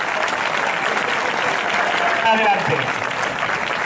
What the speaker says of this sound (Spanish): Pues un aplauso para esos patrocinadores que también colaboran.